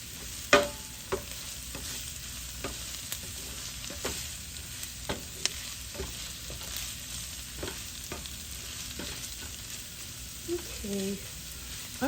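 Diced potatoes frying in a pan for Bombay potatoes, a steady low sizzle running throughout, broken by occasional stirring clicks and scrapes.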